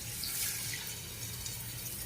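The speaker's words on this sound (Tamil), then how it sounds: "இந்த நம்ம ஈர்த்து எடுத்து வச்சோம்ல அந்த தண்ணியை வந்து அதில் போட்டுறேன்." Reserved cooking water poured into a pan while making sambar without dal, a steady close wash of splashing liquid throughout with no voices.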